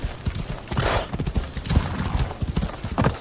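Horse hooves clip-clop in Assassin's Creed Odyssey, a steady run of close, loud hoofbeats with a brief whinny, no voices over them.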